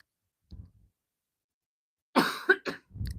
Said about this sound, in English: Excuse me for that cough, you guys.